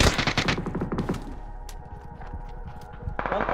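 Rapid bursts of automatic gunfire in the PUBG battle royale video game crackle loudly at the start, then give way to sparse distant shots and faint footsteps before another burst near the end.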